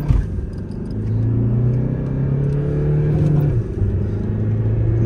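A Jeep Compass and a Tata Harrier rumble close by at a drag race launch, engines holding a steady low drone that rises slightly in pitch before a short dip and resumption.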